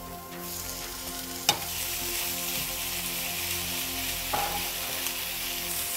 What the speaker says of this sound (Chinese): 猪肉炒熟的话就会变白，现在还有一点红色的，所以还要继续把它炒